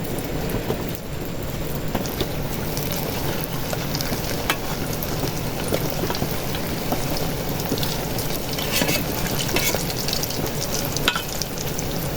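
Heavy downpour with gusting wind drums steadily on a garden hut, a dense, loud, continuous roar of rain with no voices.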